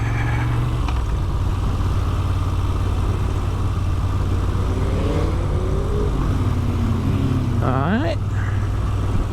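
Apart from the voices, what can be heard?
CFMoto 450 MT motorcycle on the road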